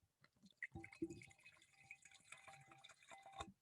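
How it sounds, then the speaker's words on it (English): Cabernet wine poured from a Bota Mini box into a glass, with soft trickling and dripping liquid, a few small clinks and close, quiet splashes in a calm setting. "So let me pour some in my glass."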